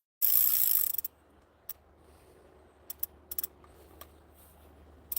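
Fishing reel at a river with its line slipping loosely around the spool: a short, loud rough burst at the start, then scattered faint mechanical clicks and ratchet ticks in near quiet.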